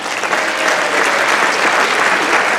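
A concert band audience at an outdoor-style community concert in Boynton Beach, Florida, gives a loud, dense, sustained round of applause that fills the room without pause.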